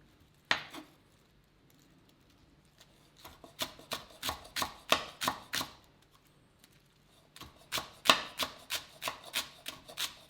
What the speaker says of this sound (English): So we'll cut that up as well quickly.